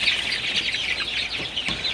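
Sonali super hybrid chickens in a crowded poultry shed, a dense chorus of high clucks and chirps running steadily throughout, fairly near, with no talk.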